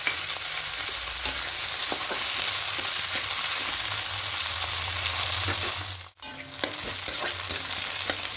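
Large chopped tomato goes into a wok where chopped onion is already frying, giving a steady loud sizzle with scraping stirs and a brief dip in the hiss near the end, no talking.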